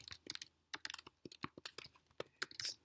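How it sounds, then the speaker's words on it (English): Typing a host name on a computer keyboard, a close run of crisp, irregular key clicks with short pauses between bursts, no voices. "here I need to type the host name of the ACU"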